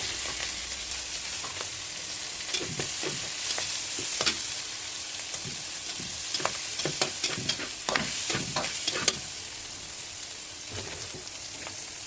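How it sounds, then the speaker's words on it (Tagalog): Ground meat sizzles steadily in oil with garlic and onion, broken by repeated scraping and clacking of a spatula stirring the pan, with no voices. "Igigisa natin dito sa giniling natin na nilaga."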